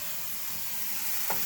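Apple slices cooking in a pan for old-fashioned apple fritters give a soft, continuous close sizzle and hiss throughout.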